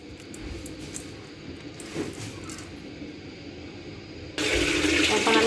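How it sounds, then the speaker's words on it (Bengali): Water runs and trickles steadily into a cooking pot, then a louder rush of pouring near the end; no voices. "এখন আমি এতে সামান্য পরিমাণ পানি দিয়ে বসিয়ে দেবো"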